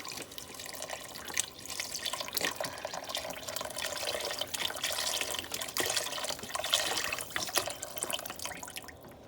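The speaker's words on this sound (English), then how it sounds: "now I'm adding 32-ounce vegetable broth" Vegetable broth pours into a soup pot with a steady close splashing and trickling of liquid, soft and continuous with small drips and gurgles throughout.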